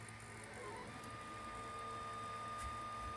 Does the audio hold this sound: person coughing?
no